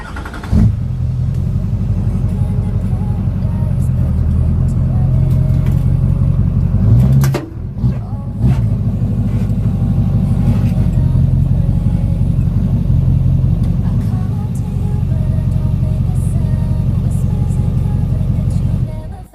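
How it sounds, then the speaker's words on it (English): A Duramax diesel pickup truck idles and creeps in reverse up onto ramps, its deep, steady engine rumble loud and close throughout, broken by a brief knock or clunk near the middle. "I'm going to back the truck onto some ramps"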